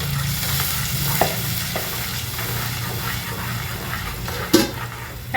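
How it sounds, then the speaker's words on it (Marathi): Water poured into spiced masala frying in a pan for chole, giving a steady hissing sizzle with a few sharp clinks of utensils, no talking heard. "आता हे पाणी मी टाकत आहे मसाल्याचं."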